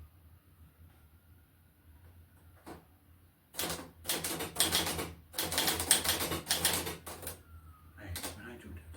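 Keyboard typing in quick clattering bursts of keystrokes after a quiet stretch, fairly close and steady, with a soft hum underneath.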